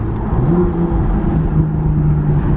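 A BMW M2 engine drones steadily from inside the moving car, a deep continuous hum with a slight rise in pitch as it pulls, loud and close throughout.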